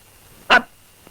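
A dog gives a single sharp, close bark in a quiet indoor scene from an old Malayalam comedy film, followed by near silence.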